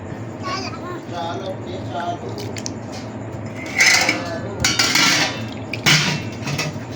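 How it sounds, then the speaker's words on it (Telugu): A pot clanks and scrapes while water sloshes inside it, with a few sharp metallic knocks, under a voice talking. "మళ్ళీ గిన్నె నీటికి మళ్ళీ కడుగునంటే చాలు"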